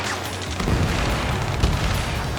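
Heavy booming gunfire and explosions rumble continuously in a ground battle in Ace Combat 7: Skies Unknown, a dense, loud low-frequency barrage with a couple of stronger thumps.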